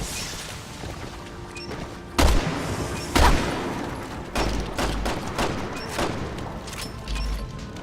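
A planted bomb exploding amid gunfire in Resident Evil 6: two sharp, heavy blasts a second apart, then scattered shots and thuds over a rumbling background.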